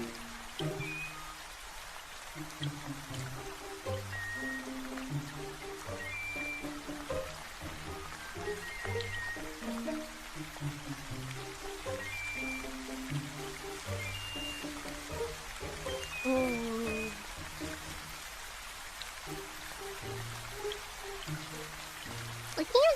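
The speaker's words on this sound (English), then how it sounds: "Looking at the drawing and listening to the sound of rain makes you sleepy." Soft, steady rainfall patters quietly in the background under gentle music, continuous and low throughout.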